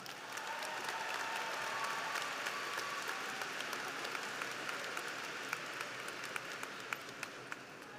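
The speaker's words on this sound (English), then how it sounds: "please join me in a round of applause and welcome Antonio Orama to the podium." Sustained applause fills the hall at a high school graduation ceremony, a steady crowd of clapping hands with some sharper individual claps standing out near the end.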